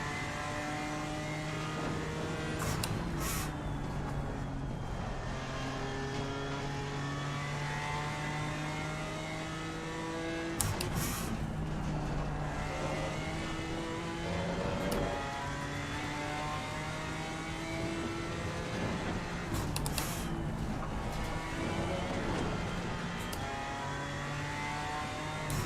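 Race car engine in a British GT sim racing game, sustained revving with repeated gear shifts and rising and falling pitch through corners, loud and continuous with no talking.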